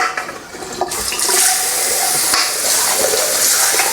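Water emptied and rinsed from the tank of a Sage Barista Express espresso machine, a loud close gushing and splashing pour that runs continuously with brief surges.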